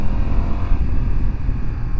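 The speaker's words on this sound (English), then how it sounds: "The sound's pretty bassy when you're revving the bike." A BMW F900XR motorcycle on its stock exhaust gives a deep, bassy engine rumble, loud and steady at close range with no talking.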